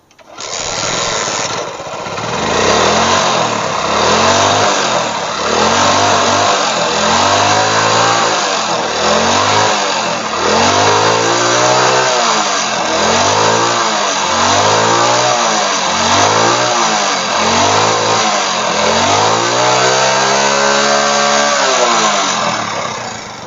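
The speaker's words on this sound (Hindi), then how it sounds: "अब बाइक को स्टार्ट करेंगे।" A motorcycle engine cranks, catches and keeps running, loud and close, its uneven revs rising and falling in repeated pulses across the whole stretch.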